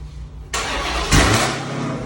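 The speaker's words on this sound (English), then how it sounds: "Let's hear this cold start." Car engine cold start: a brief quiet lead-in, then the starter catches and the engine fires into a loud roar with a rev surge, settling into a high, busy idle.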